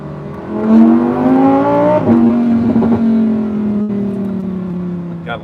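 Lamborghini Huracan Tecnica V10 revving close by: engine tone climbs through a couple of rising sweeps, then settles into a steady high drone that fades slightly, with a brief voice near the end.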